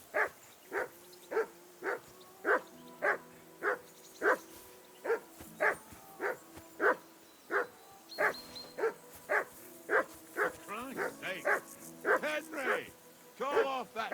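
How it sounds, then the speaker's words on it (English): A dog from Kingdom Come: Deliverance II barks steadily in a regular series of about twenty sharp woofs, with whimpering yips mixed in near the end. "Be quiet, you flea-bitten hound!"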